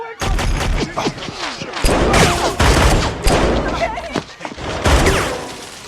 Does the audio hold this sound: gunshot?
yes